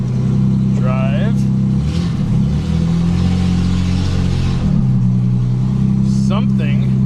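An old Jaguar car, a barn find left for twenty years, idles with a steady low engine drone as it is shifted into drive, while someone talks over the running motor.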